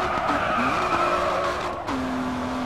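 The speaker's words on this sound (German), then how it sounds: "Ich drifte hier jede Kurve." Sustained tire squeal from a car drifting through a corner in a night racing game, a loud steady screech over engine drone that briefly cuts out and then resumes.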